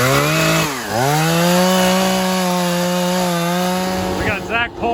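A chainsaw cuts into a tree trunk wedged in a field cultivator on a farm, its loud engine whine dipping sharply under load, then holding a steady high drone before easing off at the end.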